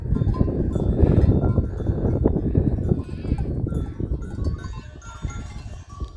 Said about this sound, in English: Tubular bells by the goats.